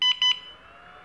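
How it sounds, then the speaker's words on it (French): A drone battery charger powering on with two short, bright electronic beeps in quick succession, close and clear, then a quiet fade with no talk. "Voilà, le chargeur s'allume."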